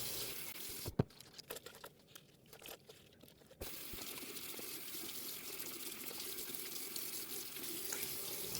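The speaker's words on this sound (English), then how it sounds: "As you can see, I'm just washing my face." Tap water runs into a sink while a face is washed, with splashes and handfuls of water breaking the flow at first, then a steady close stream.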